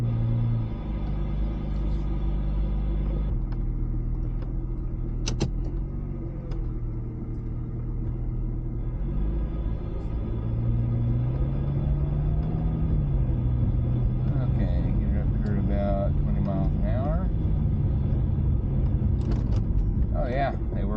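A Ford Mustang engine rumbles steadily throughout as the car drives around the block after a transmission rebuild, with low motor drone and occasional light rattles and clicks.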